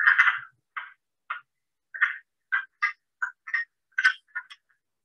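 Repeated short, hoarse croaks from an American toad, roughly a dozen uneven bursts, some doubled, sounding close and fairly loud against silence with no voices.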